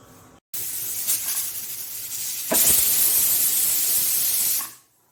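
Pressure cooker cooking lentils lets out a loud, close steam whistle, a sustained hissing blast that grows stronger midway and then cuts off, with no talking.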